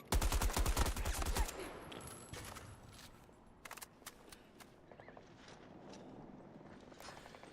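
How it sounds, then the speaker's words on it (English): Gunfire in Battlefield 2042 on PS5: a loud, rapid automatic burst up front, then scattered shots and mechanical clicks at lower level, trailing off into sparse distant pops without speech. "It's scary when the bullets are coming at you too much."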